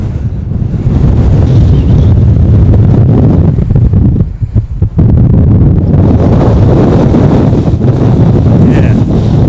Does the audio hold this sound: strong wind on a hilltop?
yes